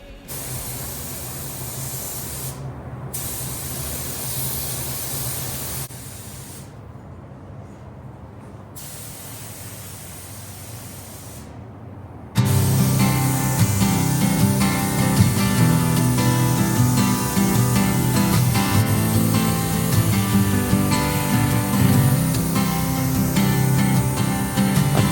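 A 1971 Pontiac Ventura is spray painted in a booth: steady broadband hissing of the spray gun and booth airflow runs throughout, with a few brief pauses early on, then turning louder and denser partway through as music plays over it.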